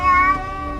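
A distressed cat lets out a strained, tonal meow-like wail, loud at first and then easing off while still sounding, alone with no voices.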